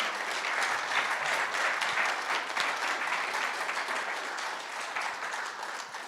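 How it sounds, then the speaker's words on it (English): Sustained audience applause at a Guide Dogs for the Blind class graduation ceremony honoring four new guide dog handlers, a dense, steady wash of many hands clapping at even loudness for about six seconds before easing slightly at the end. "let's have another big round of applause for all 4 graduates of 527."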